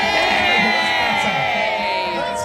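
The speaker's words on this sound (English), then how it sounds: "Give us a great big cheer all around, everybody!" A large outdoor crowd at a Chinese New Year celebration in Liverpool roars and cheers loudly and continuously, a dense wall of voices and whoops with no gaps.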